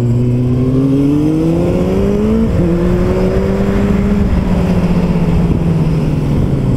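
Motorcycle engine accelerating during a wheelie, a loud, close, steady engine drone that rises in pitch through the gears, with one quick shift, and no talk.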